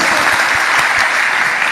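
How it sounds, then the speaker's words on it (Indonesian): A church congregation claps in praise of Christ during a sermon, loud dense applause close by that holds steady throughout the short stretch. "Tepuk tangan bagi Kristus."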